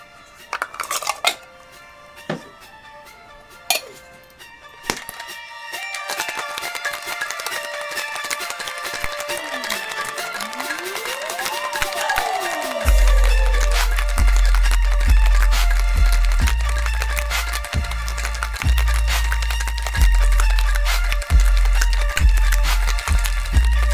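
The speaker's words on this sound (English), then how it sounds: "we're going to add some ice and shake it up" Ice clattering in a metal cocktail shaker while a mojito is mixed, a dense run of rapid rattling impacts that keeps building in loudness and stays steady to the end, with no talking.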